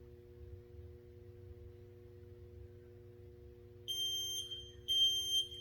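Steady low hum in a children's CrossFit class, then two bursts of high electronic timer beeping near the end, each a quick cluster of sharp tones.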